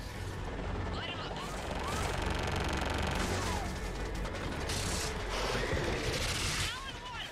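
Air strike gunfire and explosions in Mass Effect 3, a dense rumbling barrage with whooshing and sweeping effects at steady loudness, heard amid battle noise.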